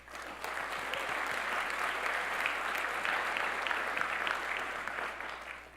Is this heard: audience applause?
yes